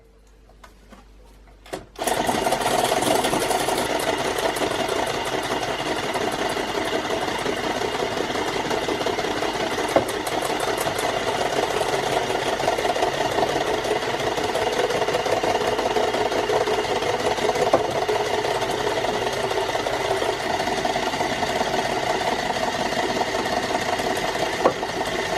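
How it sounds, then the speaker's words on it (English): Steady mechanical whirring from an electric mixer whisking flour into a gluten-free, lactose-free, yeast-free bread batter, starting abruptly after a short quiet moment and running continuously and fairly loud for the rest of the clip. "add a little bit of our flour to our mixture, whisking all the time until it is well combined"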